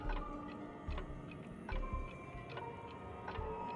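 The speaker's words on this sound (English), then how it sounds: "I hear a clock and weird sounds." Clock ticking in the video game Honkai Star Rail, a faint, steady tick repeating about once a second over a low, murky ambient background, with no voices.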